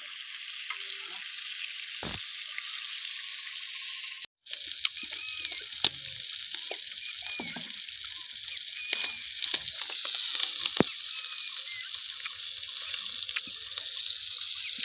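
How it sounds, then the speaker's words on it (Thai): Continuous bright sizzling hiss of meat grilling over heat at a campsite, with occasional pops and crackles, close by and steady throughout. "กำลังย่างอยู่"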